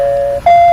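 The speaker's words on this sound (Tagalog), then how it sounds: "May nag-doorbell na." An electronic doorbell chimes in two tones, a steady lower note followed by a higher one, loud and near, lasting under a second with no voices.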